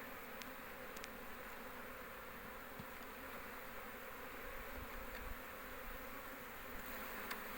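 Anatolian-breed honeybees buzz steadily at an open hive during autumn inspection, a dense continuous drone close by with a few individual bees flitting nearer now and then.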